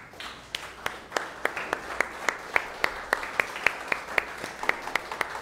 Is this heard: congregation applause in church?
yes